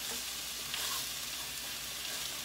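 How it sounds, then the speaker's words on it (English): Chicken parmesan cutlet browning in a hot pan, a steady close sizzle and crackle of frying that runs without a break and with no talking. "So now that one side is brown, I'm browning the other"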